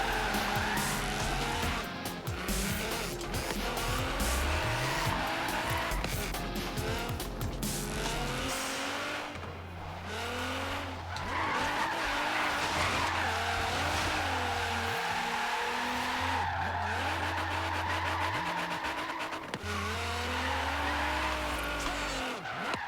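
Tyres squeal and screech as a car drifts in Forza Horizon 3, long wavering skids over a revving, roaring engine that rises and falls through gear changes, loud and continuous.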